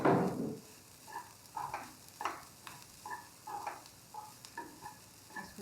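Vegetables stir-fried with black pepper in a pan, a quiet steady sizzle broken by repeated light scraping strokes of a spatula at an even, rhythmic pace, with no talking.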